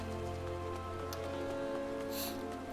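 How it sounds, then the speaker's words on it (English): Steady rain falling in the Final Fantasy XIV video game, a continuous soft hiss of drops under layered game music and ambience, with no voices. "it appears to have started raining"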